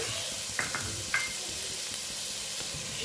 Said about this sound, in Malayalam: ഇതിലേക്ക് ഞാൻ ആദ്യം വെള്ളിയുള്ളി ഇട്ട് കൊടുക്കാൻ പോവാണ് ഇട്ട് കൊടുത്തിട്ടുണ്ട്